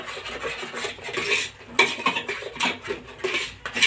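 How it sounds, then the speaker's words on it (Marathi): A spoon scrapes and clinks against a small pan while chicken masala is stirred, giving irregular close scraping and tapping strokes over a soft sizzle, with no talk. "त्याला तेल सुटेपर्यंत असं हलवत राहायचं"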